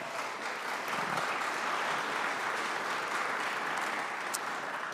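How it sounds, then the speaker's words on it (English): An audience applauds at a joint Veterans' Affairs Committee hearing, a steady, even wash of clapping that runs unbroken from start to finish at moderate volume. "That does deserve a round of applause."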